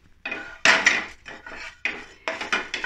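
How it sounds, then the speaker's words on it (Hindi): Melon seeds stirred and dry-roasted in a kadhai over a gas flame: repeated scraping, rattling strokes of a spoon against the metal pan, loud and close, with bursts of clinking and brief pauses, no talk. "गैस पे कढ़ाई रख दी है, और इस पे मैं ये बीज डाल के"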